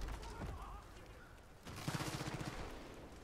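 Gunfire in Far Cry 5 during a hunting outing, with muffled shots at first followed by a rapid, rhythmic burst of automatic fire at moderate distance.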